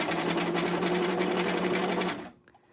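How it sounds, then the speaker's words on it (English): A sewing machine runs steadily at close range, sewing back stitches on a pillbox hat, a continuous whirring drone that stops abruptly near the end. "And now let's do a bunch of back stitches."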